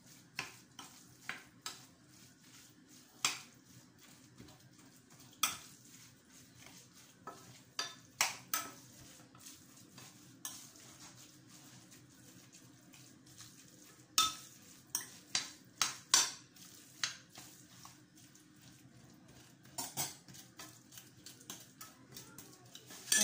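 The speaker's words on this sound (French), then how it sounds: "je suis en train de mélanger déjà mes épices" Spices being stirred together in a bowl while cooking, with intermittent close clinks and scrapes of a utensil against the dish over a faint steady background, no talking.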